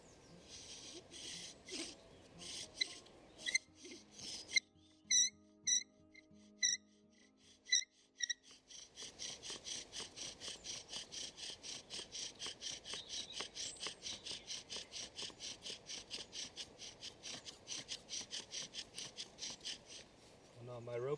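Bow drill spun back and forth to make a friction fire, giving a steady rhythmic rasping of wood on wood in close strokes that run for most of the stretch after a few scattered taps and squeaks.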